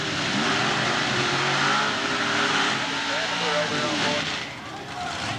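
A Pro Mod drag race at Southeastern Dragway pits a Mopar against a Calloway Monte Carlo with a 770-cubic-inch nitrous big block. Both cars roar close and loud in one continuous, heavy engine blast that eases slightly near the end.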